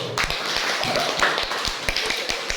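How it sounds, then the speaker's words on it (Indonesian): An audience claps hands in a scattered, uneven patter of sharp taps, moderately close and fairly quiet, with no voices over it. "Ya, tepuk tangan dulu"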